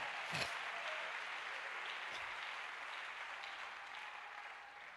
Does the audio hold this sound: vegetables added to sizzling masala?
no